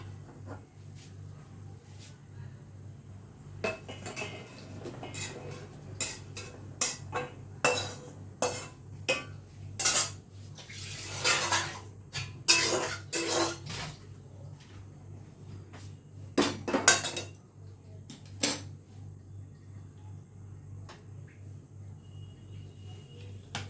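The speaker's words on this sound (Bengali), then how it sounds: "এবার আমি এটা নামিয়ে নিচ্ছি, একটা বাটিতে রেখে দিই।" Boiled soybeans are lifted off the stove and put into a bowl, giving scattered close clinks and clatters of pots, utensils and kitchen ware against a quiet room.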